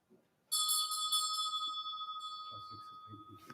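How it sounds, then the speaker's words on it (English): A bell rings out sharply during a live beer tasting, holding a long bright sustained tone that fades slowly, with a voice starting to talk underneath near the end. "The bell is ringing all the time."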